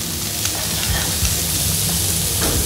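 Vegetables fry in butter in a pan, giving a loud, continuous sizzle and hiss with occasional stirring scrapes and pops, close up and without talk.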